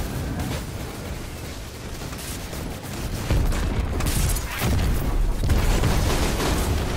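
Rocket launcher explosions in Destiny 2, heard as dense, rumbling booms and bursts that swell louder midway and continue through the end, with no voices.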